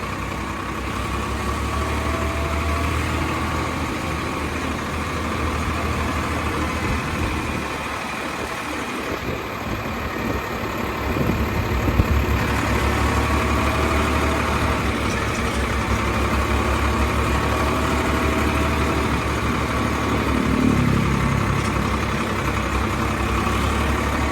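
A new Farmtrac 45 tractor's engine runs steadily for the whole stretch, a low, even diesel rumble heard up close with no talking.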